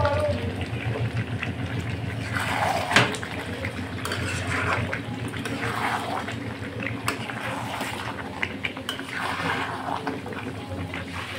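Potatoes go into a pot of half-cooked chicken curry, giving off a steady sizzling, bubbling wet clatter with scattered louder splashes and knocks, close by and continuous.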